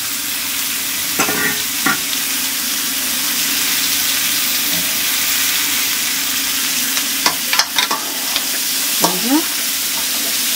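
Oil sizzles steadily in a pan during cooking for paruppu kulambu with chow chow poriyal, with a spoon or spatula scraping and stirring in short clattery bursts, close and continuous.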